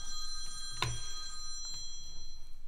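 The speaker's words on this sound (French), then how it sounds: "Mais c'est alors qu'on a reçu un coup de téléphone." An old-style telephone bell rings with a bright metallic trill, one sharp strike followed by sustained ringing tones, loud and close.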